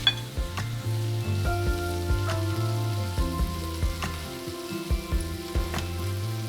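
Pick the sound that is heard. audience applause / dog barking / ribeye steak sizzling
ribeye steak sizzling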